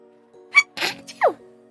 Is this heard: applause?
no